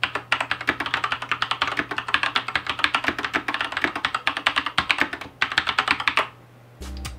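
Typing on a 1991 mechanical keyboard with dampened switches: rapid, close, clicky keystrokes in uneven bursts, a short pause, then a few more taps.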